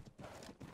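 Galloping horse hooves in the ARK survival game, a quick run of clip-clop beats that are loud and close, with no talk over them.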